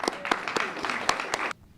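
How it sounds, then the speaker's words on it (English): Audience applause at a litter-prevention awards event, a burst of clapping with a few sharp louder claps that stops abruptly after about a second and a half. "Give yourselves a round of applause."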